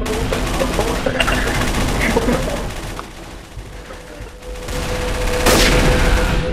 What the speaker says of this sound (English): Someone just shot me.